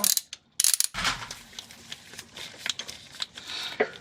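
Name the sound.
long-handle ratchet turning a 17 mm socket on a bolt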